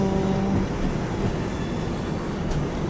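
Howrah–SMVT AC Express train rolling past, a steady broadband rumble of wheels and carriages holding close and loud throughout with no talk.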